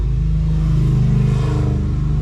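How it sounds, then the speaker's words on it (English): Loud motorcycle engines rumble and rev continuously, a dense low growl with rising throttle surges close by. "damn loud motorcycles"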